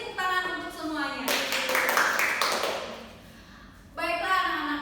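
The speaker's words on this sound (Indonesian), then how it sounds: "beri tepuk tangan untuk semuanya" Children in a classroom clap together for everyone in a brief burst of applause lasting a few seconds, set between an adult woman's speech before and after.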